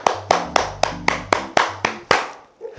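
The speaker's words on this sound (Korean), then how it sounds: "수고하신 모든 분들께 박수하도록 하겠습니다." Eight loud, evenly spaced hand claps ring out close by during an online church Bible study session, each sharp and distinct with a short decay, followed by a brief faint sound at the end.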